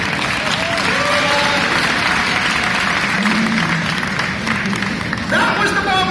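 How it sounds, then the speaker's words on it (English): Street performance audience in Covent Garden giving a loud, sustained round of applause, with scattered chatter and laughter in the crowd and a performer's voice over it near the end. "These guys will give you one last massive round of applause"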